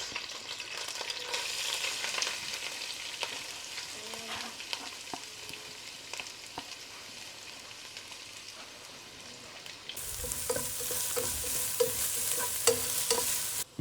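Finely chopped ginger and garlic with chillies frying in hot oil for chicken chukka, a steady close sizzle with stirring clatter that grows louder and brighter near the end.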